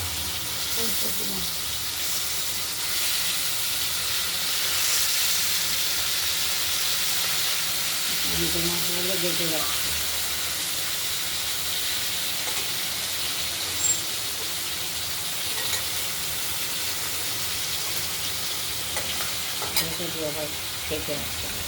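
Pieces of freshly cut katla fish sizzle and hiss steadily in hot oil in a covered pan, with stirring and scraping as they are flipped partway through, a continuous close frying sound with brief clatter.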